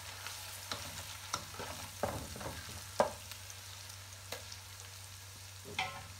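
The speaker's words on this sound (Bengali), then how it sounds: "একটু নেড়ে দিই।" Ginger-garlic paste, two spoonfuls, stirred in a hot cooking pan, with an even frying hiss punctuated by a handful of sharp spoon scrapes and knocks.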